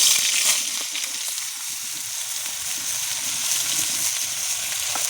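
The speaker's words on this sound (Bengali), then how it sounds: "ঝিঙেটাও হালকা করে ভেজে নেওয়া হবে।" Sliced ridge gourd fries in hot oil in a pan, giving a close, continuous hissing sizzle with slight crackles and no talking.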